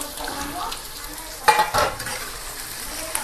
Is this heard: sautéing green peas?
yes